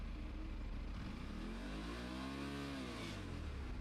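A 2026 Aprilia RS457 twin-cylinder sport motorcycle revving near 5000 rpm with exhaust pops: a loud, steady engine roar that rises and falls in pitch mid-clip, with faint crackle, no speech.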